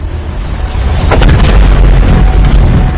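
A massive prehistoric impact explosion rolls out as a deep, loud boom, swelling into a sustained roaring rumble of the shock wave that fills the whole three seconds without letting up.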